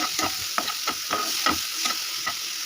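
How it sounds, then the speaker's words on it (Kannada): Cumin seeds fry in a pan for tomato chutney, giving a steady close sizzle broken by regular scraping strokes of stirring, with no voices. "ಒಂದು ಸ್ಪೂನ್ ಜೀರಿಗೆ ಅದನ್ನು ಇದರಲ್ಲಿ ತುಂಬ ಚೆನ್ನಾಗಿ ಫ್ರೈ ಮಾಡಬೇಕು"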